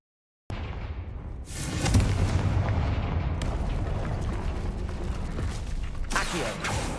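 A Confringo blasting curse erupts in Hogwarts Legacy: a sharp explosive onset followed by a long, loud, roaring rumble of fire and debris, with a second burst swelling near the end, no voices.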